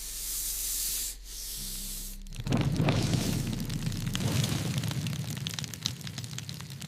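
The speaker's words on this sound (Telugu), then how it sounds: "అక్కడ ఉన్న పామును చూసి తన మంత్రదండంతో పాముని భస్మం చేస్తుంది" A magic wand blast burns a snake to ashes in an animated witch story: a muffled rumbling tone gives way to a sudden loud whooshing burst of crackling, fiery noise that keeps roaring and sizzling steadily to the end.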